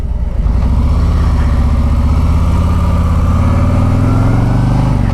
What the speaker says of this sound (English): So this is my first experience riding a street glide.